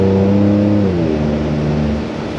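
GMC truck with an aftermarket exhaust revving on a downshift, a loud close engine roar whose pitch drops as the revs fall away over a couple of seconds.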